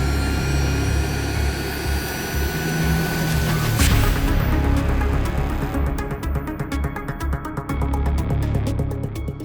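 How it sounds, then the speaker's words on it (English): A camera drone flies overhead outdoors while bike lights are being tested, its steady buzzing drone loud and continuous throughout, with a brief sweeping swell midway. "It's time to call in the helicopter."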